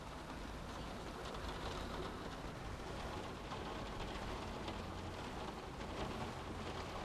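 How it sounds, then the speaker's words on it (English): Steady rain pattering on glass in the video game inFAMOUS Second Son, a continuous dense hiss with no voices, constant in level throughout. "The sound of the rain on the glass"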